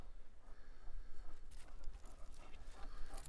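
Dogs pant and whimper outdoors at a ranch in Nevada, a steady breathy rasp with soft whines rising now and then, fairly close, with faint voices in the background.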